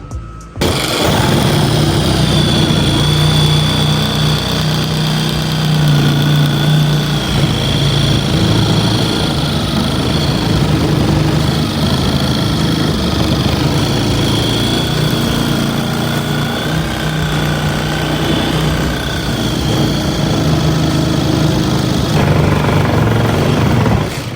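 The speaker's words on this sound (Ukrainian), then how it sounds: "Зараз відріжу і покажу." An Industrial-brand reciprocating saw cuts in its adaptive speed mode, giving a loud, close, continuous high-pitched motor whine with a buzzing blade stroke that holds steady for over twenty seconds before stopping.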